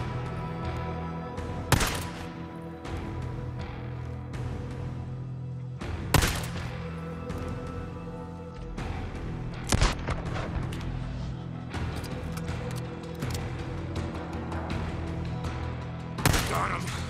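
A pistol fires in Days Gone, four sharp, widely spaced shots cracking out over a constant ambient game rumble, close and loud, with no voices.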